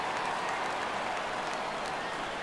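A baseball crowd at an Astros vs Mariners game roars and applauds as the count runs full, a dense, steady wash of cheering and clapping that stays loud throughout.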